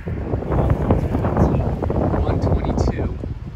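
Strong gusting wind buffets the microphone outdoors during a woodchuck hunt, a loud rumbling rush under a man's speech.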